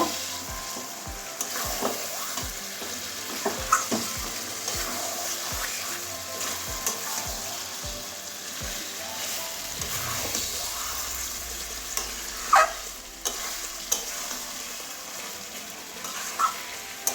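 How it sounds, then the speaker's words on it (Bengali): Marinated chicken pieces sizzle loudly in a hot pan, with a steady hiss of frying and repeated rhythmic scraping from stirring, close and without talk. "মাংসটা দিয়ে দিচ্ছি, চিকেনটা। এবারে ভালো করে কষিয়ে নেব।"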